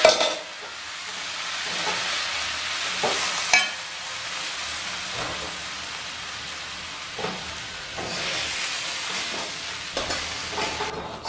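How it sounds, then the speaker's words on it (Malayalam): Boiled tapioca stirred into a spicy masala in a pan, giving a steady close sizzle and fry with intermittent scraping stirs throughout. "ഈ കൂട്ടിലേക്ക് നമുക്ക് വേവിച്ച് വെച്ചിരിക്കുന്ന കപ്പ ചേർത്ത് ഇളക്കി കൊടുക്കാം"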